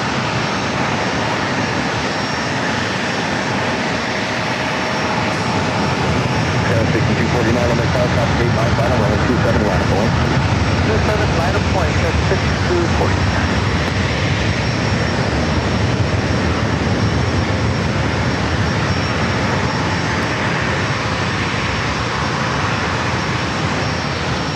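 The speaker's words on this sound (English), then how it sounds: "Should be allowing the 737-700 to now roll down to 27." A Boeing 737-700 jet rolls down the runway at San Diego airport, its engines a loud, continuous roar that swells slightly midway and holds steady throughout.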